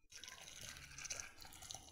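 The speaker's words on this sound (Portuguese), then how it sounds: "E agora vamos acrescentar a água fervendo em cima deste chá." Boiling water is poured from a pan over chopped picão herb to make tea, giving a soft, close, steady trickle and splash of liquid for under two seconds.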